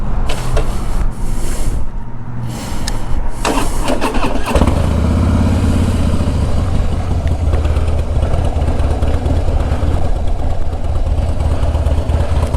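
A motorcycle engine cranks over and fires into a loud, steady idle that runs on at close range with no voices over it.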